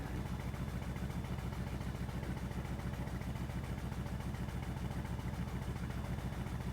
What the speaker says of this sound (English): So that's the sound at idle.